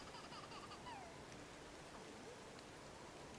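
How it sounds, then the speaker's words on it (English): Steady rain falls in the medieval survival game Medieval Dynasty, a soft continuous hiss of drops throughout with no pause or change in loudness. "It is still raining."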